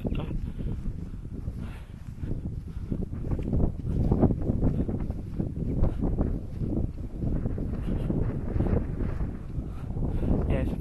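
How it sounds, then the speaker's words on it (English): Strong wind buffets the microphone with a continuous low rumble and gusty roar, voices faintly audible beneath it. "It's a bit windy, isn't it?"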